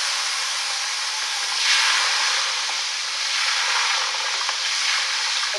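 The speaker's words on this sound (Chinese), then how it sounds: "现在做椒盐小龙虾，先过油" Crayfish deep-frying in very hot oil for salt-and-pepper crayfish, a loud, steady bubbling sizzle and hiss that swells in waves, close up with no voices.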